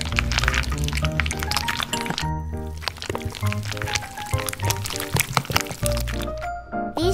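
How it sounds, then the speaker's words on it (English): Melted chocolate pours into a bowl of buttercream made from whipped butter, sugar and whipping cream, the thick liquid sliding and plopping under bright background music. "I pour melted chocolate into this buttercream bowl."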